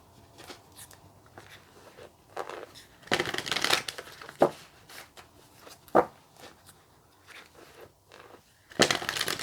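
A deck of Spirit Animal Oracle cards is shuffled and drawn by hand, with several bursts of riffling and flicking card noise between quieter pauses and soft handling sounds.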